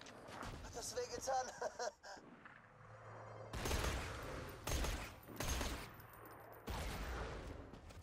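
Bursts of gunfire in Borderlands 2 rattle out as an enemy shoots from above, several loud volleys separated by short gaps, with game noise and a voice talking over the first part.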